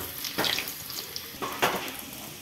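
Garlic dropped into hot oil for a dal tempering, giving a close, loud sizzle with two sharp bursts of spitting as pieces hit the oil, then a softer steady crackle.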